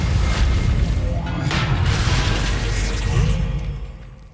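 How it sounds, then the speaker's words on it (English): A magical Reparo repair spell cast on a suit of armor in Hogwarts Legacy, loud and sustained with a booming, crashing rush and swishing sweeps that fade away at the end. "I know just the spell to repair this armor."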